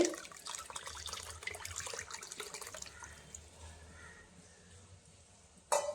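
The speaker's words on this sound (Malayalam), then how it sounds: "ഇനി നമുക്കിതിലേക്ക് തേങ്ങാപ്പാൽ പിഴിഞ്ഞത് ഒഴിച്ചു കൊടുക്കാം" Squeezed coconut milk pours into a pot of Kerala kadala pradhaman, a close, soft liquid stream and splash that thins to a quiet trickle, then ends in a brief clink, with no voices.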